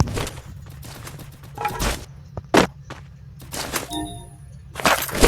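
Gunfire in the mobile battle game Free Fire, scattered sharp cracks and short bursts of shots with thuds and footsteps between them, no talk.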